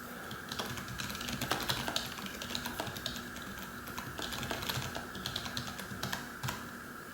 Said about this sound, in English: I can type like crazy on this.